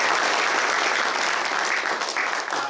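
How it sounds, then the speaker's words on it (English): Audience at a city climate plan event applauds the host, sustained loud dense clapping filling the whole stretch. "Please give a round of applause to our host here today."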